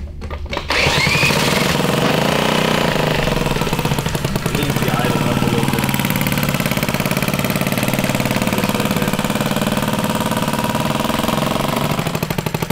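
A Honda Ruckus moped engine, revived after sitting seized in the woods, catches and runs with a loud, rapid, rattling idle that holds steady and close, sputtering slightly toward the end.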